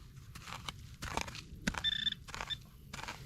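A metal detector wand gives a couple of short, high electronic beeps near metal among rustling and shuffling footsteps outdoors in Florida.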